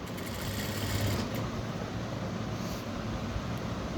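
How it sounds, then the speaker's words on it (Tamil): A sewing machine stitches around a blouse neckline, its steady motor hum and dense needle rattle close and constant throughout, with a brief shift in pitch partway. "முனையில் வளைச்சி கழுத்து ஜாக்கிரதையாக தைக்கணுங்க"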